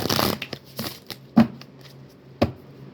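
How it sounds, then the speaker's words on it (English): Cards being shuffled up close: a riffling burst followed by several sharp snaps and taps spaced irregularly, no talking. "That was a shitty shuffle."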